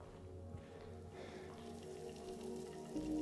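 Rain patters softly in the Silent Hill 2 Remake, a faint steady wash of drops with a low ambient hum beneath and no speech.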